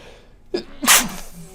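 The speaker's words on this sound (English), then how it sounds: "I'm sneezing already in the intro." A single sharp sneeze, close and loud, with a brief intake of breath before it.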